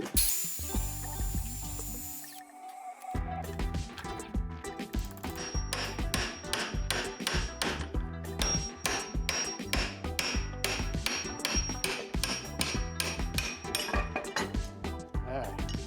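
An axe head is struck with a hammer to knock the wedge out of its handle, giving a quick series of sharp metallic clinks and knocks in an irregular rhythm, close by, with no speech.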